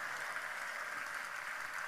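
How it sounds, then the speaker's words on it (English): A church congregation at a Crossover 2021 service gives a clap offering, producing faint, steady, distant applause from many hands throughout the clip. "give the Lord a clap offering"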